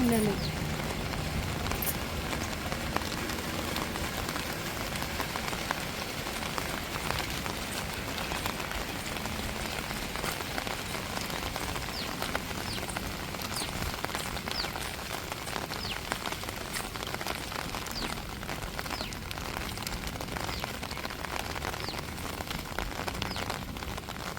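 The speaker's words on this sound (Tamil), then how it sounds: "மழை தண்ணியை பாரு மழையும் உளுந்துக்கிட்டு இருக்குது" Heavy rain pours steadily in a village during a storm, a dense, unbroken hiss of drops drumming on surfaces that holds an even loudness throughout.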